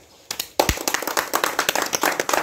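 Several people clap in a short, irregular burst close by, with brief voices at the start and the claps settling into a quick ragged patter.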